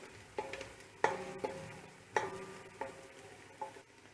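Vegetables being stirred in a pot for Turkish döğme soup, faint sizzling under a series of distinct spoon scrapes and knocks spaced irregularly, with no talking.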